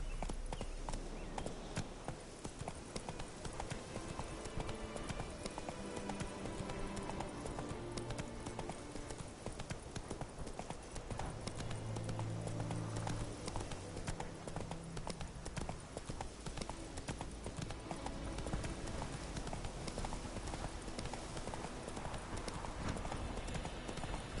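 Steady clip-clop of the horse Roach's hooves in a video game, a continuous rhythmic trot under music-like background sound throughout, fairly close and prominent.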